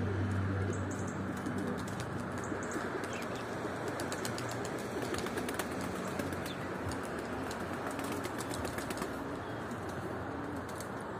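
Racing pigeon coming in to land, with steady fluttering wingbeats and scattered coos and chirps from other birds over a constant outdoor background, no voices.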